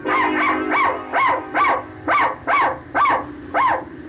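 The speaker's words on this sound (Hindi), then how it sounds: "अरे, कौन भौंका?" A dog barks about ten times in a steady rhythm, each bark loud, close and sharply separated by brief pauses.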